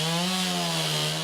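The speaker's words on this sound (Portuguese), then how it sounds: "Com 100 decibéis, o caso de uma serra elétrica" Chainsaw running at a steady high pitch, a strong buzzing engine whine with rich harmonics held continuously for a brief moment, loud and close, no voices.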